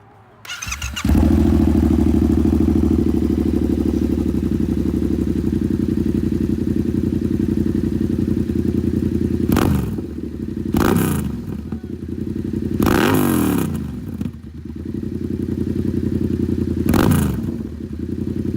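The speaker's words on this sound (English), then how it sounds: "We can go ahead and start it up for y'all if y'all want to hear that SC project." A motorcycle fitted with an SC Project exhaust cranks and fires up after a short pause, settles into a loud, close, steady idle, then gives several sharp throttle blips that climb and fall.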